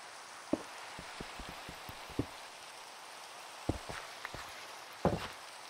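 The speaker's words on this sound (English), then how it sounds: "It started raining." Rain falling in the Siren Head video game, a faint steady hiss of rainfall with scattered soft drips and taps on surfaces, heard alone without talk.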